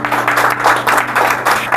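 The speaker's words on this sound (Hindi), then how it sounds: "एक बार यीशु के लिए जोरदार तालियां" A church congregation at a Sunday worship service in Siliguri bursts into brief, lively clapping in uneven waves, loud and close, with a low steady hum underneath.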